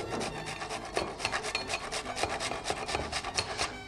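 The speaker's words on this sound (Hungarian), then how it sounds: "Most teszünk egy kicsi szerecsendiót. Ezt reszelve." Whole nutmeg grated by hand for a honey spice mix, rapid rhythmic rasping strokes, close and crisp, repeating steadily without any talking.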